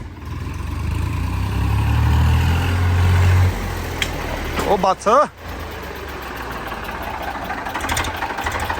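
A low tractor engine rumbles and idles steadily in the foreground, then voices speak briefly over it before the engine noise continues alone.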